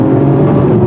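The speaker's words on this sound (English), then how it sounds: "I put it in the sport mode, so now I have a nice sounding exhaust" Steady, loud engine and exhaust drone from a 2021 Acura TLX Type-S driven in sport mode, heard from inside the cabin with no talk.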